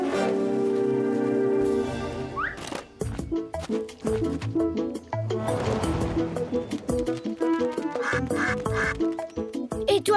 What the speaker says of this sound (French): Ah, maudit canard!